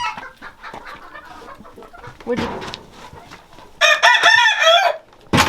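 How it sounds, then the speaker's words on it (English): A rooster crows loudly and close by, following scattered clucks and hen chatter in the coop, while a person briefly speaks at the start. "There's the mean rooster."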